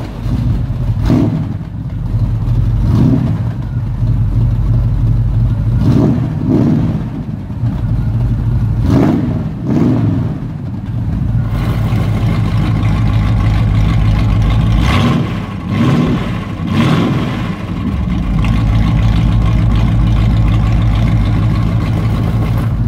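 A Pontiac Firebird engine runs loud and close, rumbling steadily while the throttle is blipped into several short revving surges, the last ones rising into a sustained higher-pitched rev before settling back, with no talk over it.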